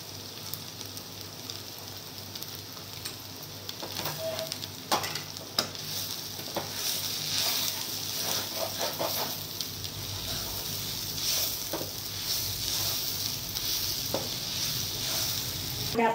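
Cluster beans frying in a pan, a constant soft sizzle with repeated scraping stirs of a spoon against the pan, fairly close and without talking.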